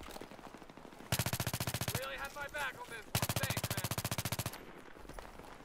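Automatic weapon fire in the Battlefield 3 multiplayer shooter on the Wake Island map, two long rapid bursts of loud shots separated by a short gap with game noise and faint talk between.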